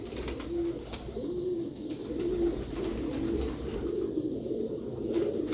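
Pigeons in a breeders' loft, a red-beaded male paired with a green-beaded female, give soft repeated coos at a steady rhythm, close by over a continuous low background murmur.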